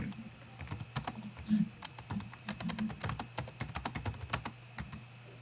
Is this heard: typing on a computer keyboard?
yes